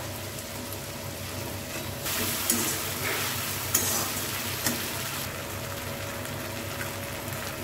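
Tomatoes fry with ginger garlic paste in a pan, giving a soft, steady sizzle, while a spoon stirs with occasional scraping clicks throughout.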